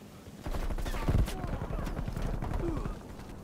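Gunfire in an online multiplayer shooter match, heard as a steady run of rapid, punchy shots and bursts under ongoing voice chat, with one louder blast standing out near the middle.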